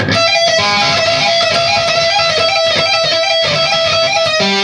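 Distorted electric guitar playing a fast solo, with a steady high tone ringing underneath throughout, a sustained unmuted string humming over the picking.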